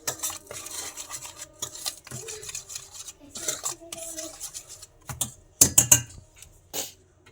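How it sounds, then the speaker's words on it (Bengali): Coriander pakora batter with baking soda and chilli powder is stirred in a bowl, producing close scraping and clinking of a utensil against the dish in uneven strokes, with a few sharper knocks. "এবার সব ভালো করে মিশিয়ে নেবো।"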